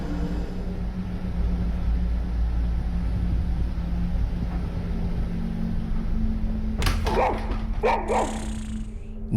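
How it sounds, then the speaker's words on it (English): A dog growls and barks in a house, turned toward the kitchen: a few short, fairly close barks and growls come late, over a steady low hum from an appliance, with no talking. "dog starts to growl toward the kitchen"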